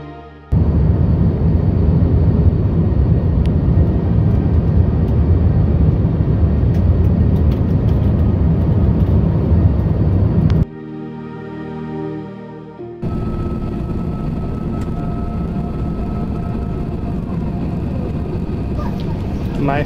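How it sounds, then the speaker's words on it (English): Cabin of a Delta Air Lines Airbus A350 heard from inside: a loud, steady broadband engine and air roar, briefly dropping to a quieter hum before the constant drone resumes, with some talk mixed in. "My first ever flight on an Airbus A350 will be this Delta Airlines flight taking me to Incheon from Atlanta."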